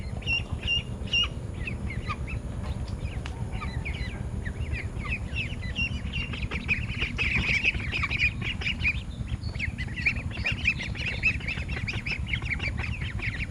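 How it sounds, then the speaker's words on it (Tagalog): Peking ducks on a farm quack and squawk in a dense, overlapping chorus that grows busier and louder partway through, over a constant low rumble of background noise. "Nakakatuwa rin pa ng mga ka-farmmates mag-alaga ng Peking duck."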